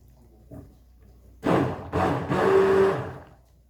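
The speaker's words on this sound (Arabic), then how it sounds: "غادي نطحن كل شيء كما راكم تشوفوا." A kitchen blender grinds lemon and mint juice, starting with a small knock, then kicking on in two loud, close bursts of whirring motor and churning liquid, with no speech over it.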